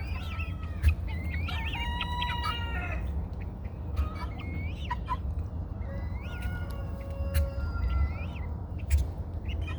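Guinea fowl on a farm calling again and again: sharp, repeated high cries and chattering calls come in bursts over a low rumbling background, fairly close, with other poultry clucking nearby.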